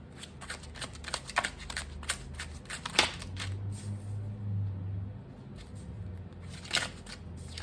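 Tarot cards being shuffled by hand, a run of crisp riffling flicks and soft slaps in quick bursts, close and clear, with a quiet low hum underneath and no talking.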